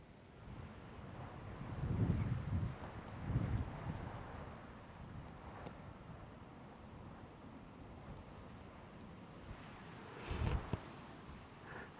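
Wind buffeting a microphone outdoors on a warm day in a wooded dene, low rumbling gusts around two and ten seconds over a faint steady rush.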